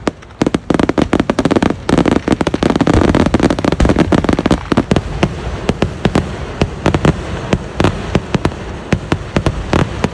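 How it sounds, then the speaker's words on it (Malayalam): Fireworks at a Vishu vela temple festival in Kerala, a dense run of sharp, loud bangs and crackling bursts firing in quick irregular succession, thinning to more spaced explosions toward the end, with crowd noise underneath. "അതിൻ്റെ ഇടയ്ക്ക് നമ്മുടെ വെടിക്കെട്ടും സ്റ്റാർട്ടായി."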